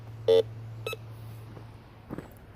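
A metal detector being tested gives a few short electronic beeps as it registers a coin target, with a steady low hum behind and quiet handling noise between tones.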